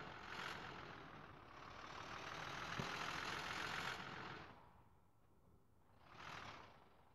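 A car engine revving in a driving video game, rising and steady for about four seconds, dropping away, then surging briefly again near the end; no talking.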